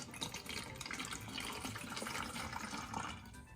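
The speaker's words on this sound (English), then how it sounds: "We're going to be filling it all the way to the top." Water runs steadily from a tap and fills a container to the top for a home elephant toothpaste experiment, giving a faint, even, splashy hiss that settles slightly at the end.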